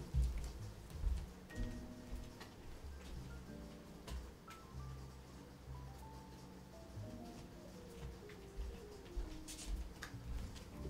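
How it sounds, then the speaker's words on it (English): Steady rain falls close by as a soft, continuous patter, with scattered louder drops and a few faint bird calls behind it. "I guess I'll leave the rain playing."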